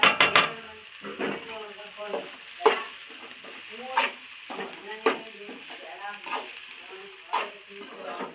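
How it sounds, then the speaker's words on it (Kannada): Spices fry lightly in a pan with soft sizzling under repeated scraping strokes of a spoon, several stirring clatters spaced about a second apart. "ಮಸಾಲೆಗಳೆಲ್ಲ ಲೈಟಾಗಿ ಫ್ರೈ ಆಗಿದೆ"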